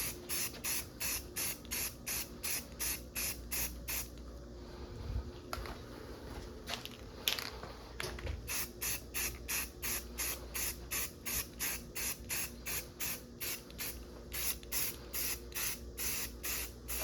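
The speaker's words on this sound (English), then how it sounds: "when spray painting from a can on a surface like this" Repeated short bursts of aerosol spray paint onto a roof rack, close and hissy, in a steady rhythm, with a pause in the middle before the spraying resumes.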